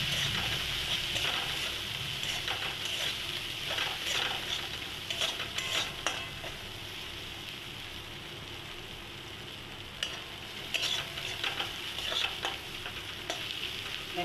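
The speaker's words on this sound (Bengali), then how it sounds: "এক চামচ হলুদ গুঁড়ো দিয়ে দেবো, দিয়ে মশলাটা একটু কষে নেব।" Spice masala with a spoonful of turmeric is sautéed in oil with steady sizzling, and a spatula scrapes and stirs repeatedly; everything stays fairly quiet and close.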